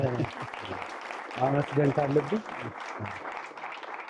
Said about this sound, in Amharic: ደስተኛ ከሆናችሁ አጨብጭቡ።